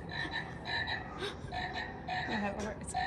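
A small frog croaks repeatedly in a museum exhibit of Middle Appalachian wildlife, a close, rhythmic series of short raspy calls with no talk over it.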